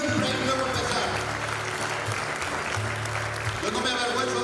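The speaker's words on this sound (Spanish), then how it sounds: "Dale un fuerte aplauso a la iglesia del Señor." A church congregation applauds loudly and steadily during a Spanish-language sermon, a dense wash of clapping from many hands filling the room while someone speaks over it.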